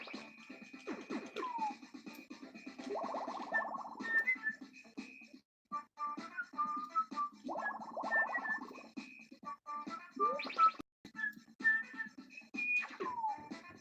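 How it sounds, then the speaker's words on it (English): Whistling sounds in the background during gameplay of the retro platformer Super Adventure Island, with short tonal whistles and chirps repeating at intervals over soft scratchy game noise. "A little whistle in the background."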